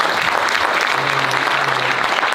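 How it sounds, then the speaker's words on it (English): A summit panel audience claps in a loud, dense burst of applause that holds steady from start to finish, close and full, with no speech on top. "So let's clap to this and thank everybody for coming."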